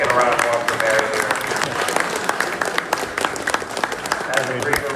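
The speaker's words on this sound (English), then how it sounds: "Let's get a round of applause for Mary here." An audience applauds for Mary at an ironworking auction, a dense wash of clapping that holds steady and fairly loud throughout, with speech mixed in.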